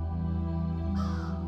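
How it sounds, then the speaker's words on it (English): Crows caw at a graveyard at night in a video game, harsh repeated calls rising over a steady low ambient drone and lasting through the second half. "Crows at a graveyard."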